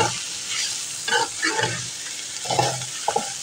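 Shredded chicken mixture stirred in a pan with soft scraping and a light sizzle, a few spoon strokes standing out over steady frying hiss; no talking.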